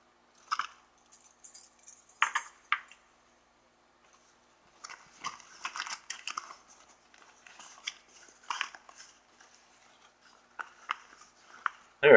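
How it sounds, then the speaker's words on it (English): A spare set of house keys jangles and clinks close by in short, irregular bursts with brief quiet gaps, among the rustle of a Maxpedition Mongo bag being handled. "extra set of keys for the house"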